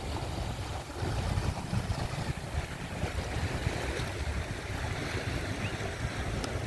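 Waves wash onto the shore at Manora beach in Karachi, a steady, continuous surf roar with wind buffeting the microphone and no voices.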